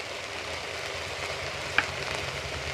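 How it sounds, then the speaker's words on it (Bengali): Spice paste of cumin, green chili and garlic with salt, turmeric and Kashmiri chili powder sizzles steadily in a hot pan, a continuous close frying hiss with one brief scrape of stirring. "মশলাটাকে বেশ কিছুক্ষণ আমি নাড়াচাড়া করে নিয়েছি"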